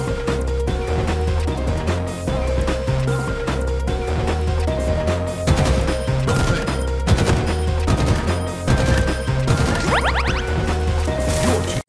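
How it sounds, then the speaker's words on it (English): Bursts of BR-75 battle rifle fire in Halo Infinite crack out in quick volleys over a dense, steady game soundscape, with sharp impacts clustering in the middle and near the end. "BR-75 battle rifle"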